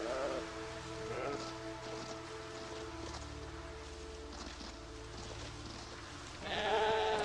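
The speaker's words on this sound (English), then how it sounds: "They must be able to hear the sheep from quite long range" Sheep bleat in a wilderness survival video game, several calls rising from a busy rain-like background, with a louder bleat at the end; a voice talks in places.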